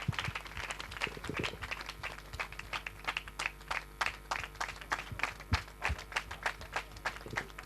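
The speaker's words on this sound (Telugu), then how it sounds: "అందరు చప్పట్లు కొట్టండి దయచేసి" Scattered audience clapping at a church inauguration ceremony, a series of sharp individual claps at uneven rhythm over several seconds, fairly faint and distant, with a low steady hum behind.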